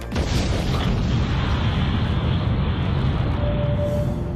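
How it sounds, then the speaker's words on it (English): A casino building in Las Vegas implodes with a sustained, loud, rumbling roar of collapse, a dense low boom that holds steady from the first instant to the end. "The Ballboard Casino has imploded to make space for MGM's city centre"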